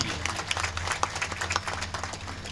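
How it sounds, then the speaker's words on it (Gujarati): A crowd at a Shrimad Bhagwat Katha religious discourse in Mokar gives a round of applause: dense, steady clapping from many hands that carries on throughout. "આપણે તાળીઓથી અભિવાદન કરીએ"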